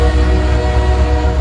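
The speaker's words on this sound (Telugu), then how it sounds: "ట్రైన్ వచ్చింది కదా." A train rolls into a station in steady, loud, unbroken rumble, with low mechanical drone and ringing tonal hum throughout and no talking.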